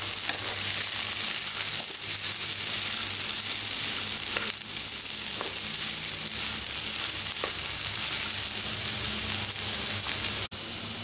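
Chopped ivy gourd (tindora) fries with curry leaves in a pan, a loud continuous sizzle with occasional scrapes of stirring and a sharp clatter near the end.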